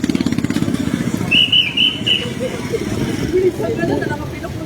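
Motorcycle engine puttering nearby and passing along a street in Kalibo, with a rhythmic pulsing exhaust at first, then fading under background noise, while someone speaks.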